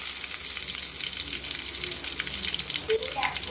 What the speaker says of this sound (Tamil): எண்ணெய் காஞ்சிச்சு, கருவேப்பிலை போட்டுக்கலாம், பூண்டு தட்டி போட்டுக்கலாம்